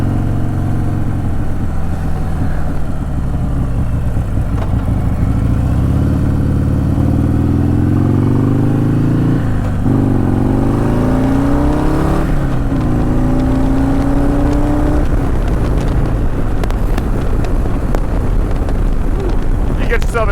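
Harley-Davidson Softail Sport Glide with a Stage II upgrade accelerating on the road, a deep V-twin rumble climbing through the gears with rising pitch, heard close from the rider's position under steady wind buffeting.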